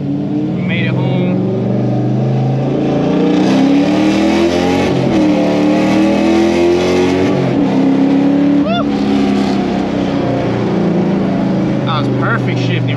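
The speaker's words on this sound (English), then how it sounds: "Perfect shifting right there. That third gear was nice." A car engine revving hard and shifting gears on a drift night, a loud steady drone that rises and falls through each gear change, with the pitch sweeping up and dropping back several times.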